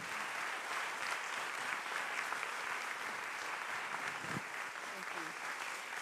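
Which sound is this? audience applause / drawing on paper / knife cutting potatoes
audience applause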